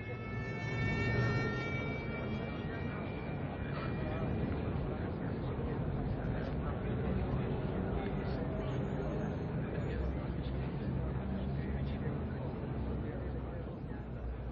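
Emergency sirens at a scene in Milan near the Duomo sound as a steady, sustained tonal wail, mostly at the start, under continuous crowd noise and dense background rumble.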